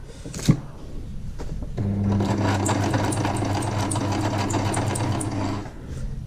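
A sewing machine stitches around a corner of fabric: a sharp click, then a steady mechanical whirr runs for about four seconds, close and loud, before stopping.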